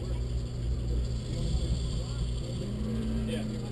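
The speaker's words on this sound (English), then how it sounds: "Then we'll move on to street modified front drive with Aaron Talage at the wheel, that Cooper S." A Mini Cooper S in street modified front drive class runs an autocross course, its engine a steady droning hum with a rising note near the end, while a commentator talks over it.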